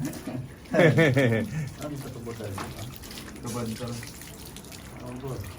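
Water runs from a temporary outdoor tap at a house build site in Antique, Philippines, a steady splashing stream under close conversation throughout.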